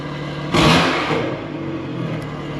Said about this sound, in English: A running Evo!